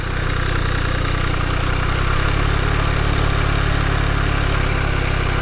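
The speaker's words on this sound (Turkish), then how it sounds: "İlk önce motorun bloğundan, şanzımandan ses geliyor. Ondan sonra egzozdan ses geliyor" An MV Agusta Brutale 800 motorcycle engine and exhaust drone steadily at a constant idle, a loud, close, even rumble with no other sounds.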